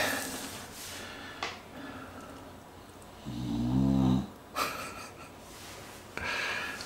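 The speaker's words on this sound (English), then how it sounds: "I really hope that snoring" A British Bulldog snores in one loud, rumbling snort-like breath, close by and alone amid quiet room noise.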